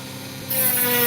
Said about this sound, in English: Admittedly, this Dremel has been flogged very hard in its short life.